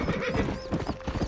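A horse's hooves clip-clop in steady rapid rhythm in Red Dead Redemption, close and clear, with a brief whinny mixed in and no talk.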